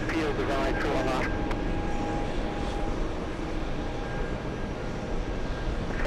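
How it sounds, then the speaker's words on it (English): A heavy Airbus A330 jet departing runway 31 left gives a steady, broad engine roar heard from a distance, with brief talking at the start. "Heavy Airbus 330 departing runway 31 left, use caution."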